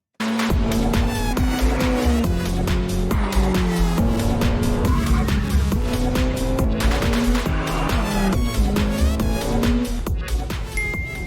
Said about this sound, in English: And finally, the Ferrari F8.